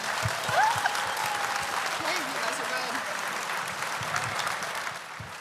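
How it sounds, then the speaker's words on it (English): An audience gives steady, sustained applause to two student speakers at a cook-off event, with a few faint voices underneath. "Will you guys give Maggie and Wyatt a huge round of applause"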